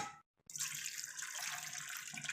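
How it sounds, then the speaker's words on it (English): Broth being poured into a pot of slow-cooked beef shank, a steady liquid splash and stream that starts after a brief silence and runs continuously, close and fairly loud, with no talking. "Now we're going to pour in the broth."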